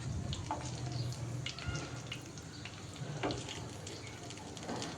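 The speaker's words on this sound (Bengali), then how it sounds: "বেগুন ভাজা খিচুড়ি তো এখন নাড়াচাড়া করে নিচ্ছি" Khichuri with fried eggplant is stirred in a pan. Soft scraping and a low sizzle run on steadily and faintly, with light clinks of the utensil now and then.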